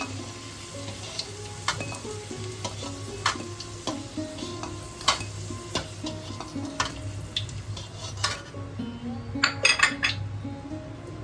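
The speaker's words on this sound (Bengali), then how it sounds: "এবার ডুমো করে কেটে রাখা আলুগুলোকে ভেজে নেব" Diced potatoes fry in hot oil with a steady, continuous sizzle. A utensil stirs the pan throughout, adding scattered metallic clinks and scrapes that grow busier toward the end.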